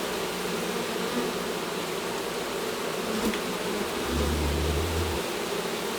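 Honey bees in a hive built inside a house wall, a dense, loud, continuous buzzing swarm close by that holds steady throughout, with a brief low thump near the end and no talking.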